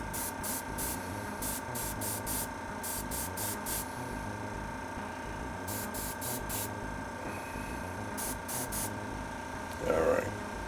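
An airbrush spraying skin-tone paint onto a 3D-printed figure gives short, sharp hissing bursts in quick clusters with gaps between them, over a constant low background hum.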